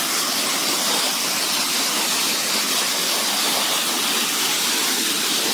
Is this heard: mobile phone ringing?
no